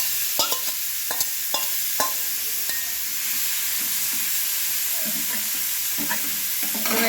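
Carrots and mixed vegetables fry together in a pan for poha pulao, a steady close sizzle broken by sharp clacks and scrapes of a spatula stirring, with no talking.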